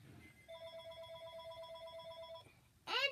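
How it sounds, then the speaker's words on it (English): A phone rings with a steady electronic ringtone of warbling tonal pulses lasting about two seconds, faint and slightly distant, then cuts off before a brief louder rustle. "And there goes my phone to ring."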